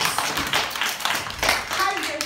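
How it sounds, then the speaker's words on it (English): Children clapping together after a classroom-style read-aloud of a Christmas story, a steady spatter of small hands applauding for about two seconds, close and fairly loud throughout. "Give yourself a round of applause."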